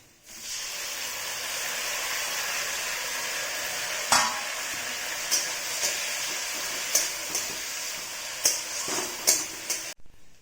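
Tomato paste sizzles in a pan with fried onions for a bottle gourd and egg curry. A constant soft frying hiss runs throughout, punctuated by several sharp stirring clinks in the second half, with no talking.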